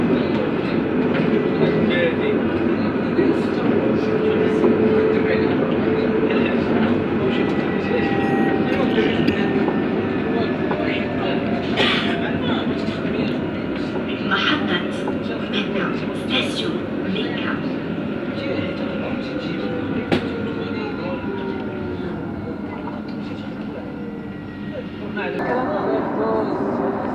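A Casablanca tram rumbles at Casa Sud station with continuous rolling wheel noise, squeals and occasional clanks, loud and close, while people talk faintly and a station announcement sounds in the background.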